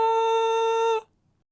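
A pure electronic test tone holds a steady high pitch for about a second, then cuts off abruptly into silence.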